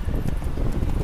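Horse hooves clip-clopping in The Witcher 3, a steady run of close, even hoofbeats across a short stretch with a faint wind-like bed underneath.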